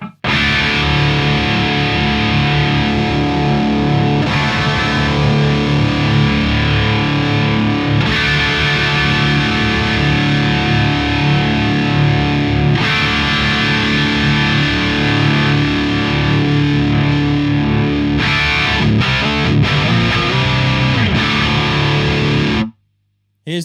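Distorted electric guitar played through a Hughes & Kettner Warp T/X amplifier, a dense sustained crunch heard as the treble control is swept up and down, loud and continuous with brief drops in the tone and a cut near the end.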